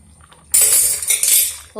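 A metal spoon adds a spoonful of ghee to a pot of dal (parippu curry), giving a sudden loud clattering, scraping burst of metal on the pot that lasts about a second, followed by a brief quieter clink.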